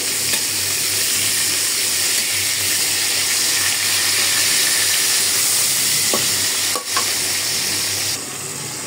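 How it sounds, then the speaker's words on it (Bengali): Salted hilsa fries in hot oil in a wok with a loud, dense, continuous sizzle heard up close, broken only by a couple of brief clacks near the end, and no one speaking. "আমি কিন্তু কড়াই বসাই দিলাম আর তেলে দিয়ে দিলাম নোনা ইলিশ। একটু হালকা করে ভেজে নিই।"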